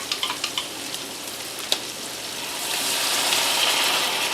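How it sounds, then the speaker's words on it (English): Beef tips sizzling in a pan, a few quick stirring clacks at the start, then broth poured in swells into a loud, rushing hiss and bubbling that fills the rest. "grab my broth, give that a little stir"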